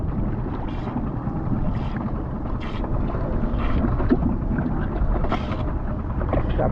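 A skiff's outboard engine idling on the water, a steady low rumble mixed with wind buffeting the microphone, continuous and close.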